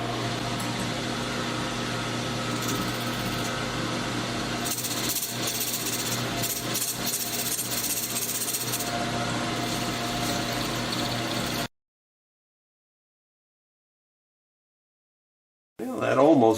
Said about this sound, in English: I'm going to start with this brass ring and I'm going to face it off